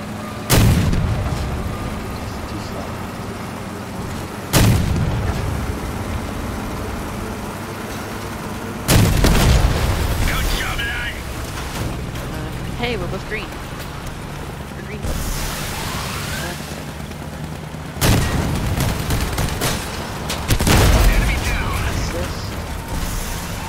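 Heavy tank cannon shots fired from a bus in a video game, about six loud, close booms spaced several seconds apart, each with a rumbling decay over a constant mechanical engine drone, with a voice talking in between.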